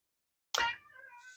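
A house cat gives a single short meow, close and clear, with nothing else around it.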